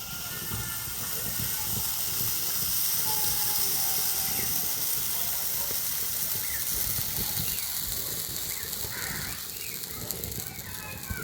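Batter ladled into a lightly oiled pan for net-style pitha sizzles with a steady, dense hiss, close and continuous for the whole stretch, with faint kitchen clatter underneath.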